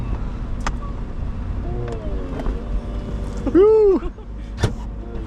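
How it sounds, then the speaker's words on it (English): The electric convertible roof of a 2008 Aston Martin Vantage V8 whirs and hums as it opens and folds away, a loud close motor drone with a rising-falling tone, while a voice exclaims over it. "I'm guessing the top opens like this."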